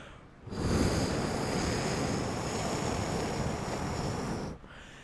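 A human voice mimics the roar of Hurricane Idalia's wind: a steady, breathy rushing hiss that swells up quickly, holds level for about four seconds, then cuts off abruptly.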